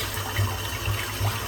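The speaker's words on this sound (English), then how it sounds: "Just rinsing the brush out now." Running water from a tap pours steadily over a shaving brush being rinsed, a soft continuous splashing with a few brief gurgling surges, fairly quiet and close.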